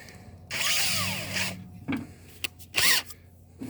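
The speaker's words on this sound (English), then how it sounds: "Might take a little bit of drilling to get it to go through" A power drill whirs in two bursts, the first long and rising in pitch, the second short, separated by a few clunks.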